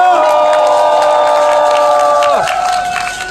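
Outdoor crowd at a climate justice march rally in Daejeon applauding and cheering for a band, loud clapping and shouts layered over a sustained tone that bends downward and fades near the end.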